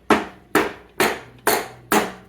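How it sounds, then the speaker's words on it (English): A rubber hammer strikes a Honda CT70 cylinder jug five times in an even rhythm, each blow a close, dull thud that dies away quickly. "Let's grab a rubber hammer and give it a whack."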